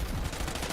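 Gunfire in the shooter Warzone, a short rapid burst of automatic shots heard alone.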